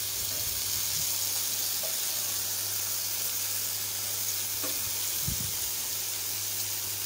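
Shrimp paturi wrapped in gourd leaves frying under a lid in a pan, giving a steady soft sizzle and hiss with a low background hum throughout, no talking.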